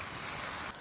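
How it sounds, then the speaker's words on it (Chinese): Water poured into a hot wok of stir-fried pickled vegetables and chilies, a loud continuous rushing hiss that cuts off abruptly near the end, leaving a softer simmer. "加入水，"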